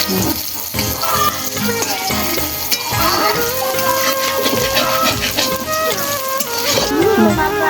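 Pangas fish fries loudly in a pan while it is stirred, giving a dense, continuous sizzle broken by scraping strokes, with tonal background sounds underneath.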